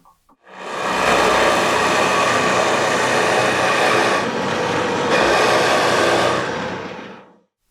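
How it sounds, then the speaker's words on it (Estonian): Flat spade drill bit boring out the wooden sound box of a small kantele, a loud continuous whirring grind that starts abruptly, runs about seven seconds with a brief dip midway, then stops. "Kandle kõlakoja tühjaks puurimiseks kasutan sellist lamedat puuritera, mis võtab palju puitu korraga."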